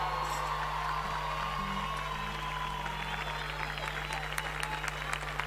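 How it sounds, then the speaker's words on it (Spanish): A crowd of children applauds alongside a steady background tone at a lively children's singing and dancing show, the clapping loose and continuous, growing crisper and more scattered toward the end. "¿Puede ser un aplauso para mí?"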